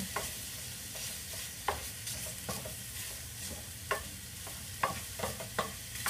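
Shrimp frying in a pan, a quiet steady sizzle punctuated by irregular scrapes and taps of a utensil stirring and moving the shrimp, with no voices.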